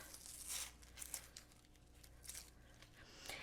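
A small onion with both ends trimmed is peeled by hand, giving quiet dry crackling and tearing of papery skin in a few short bursts, close and faint, with no talking.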